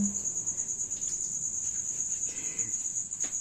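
Continuous high-pitched insect chirping, steady and shrill like crickets, with faint background rustles and low murmurs.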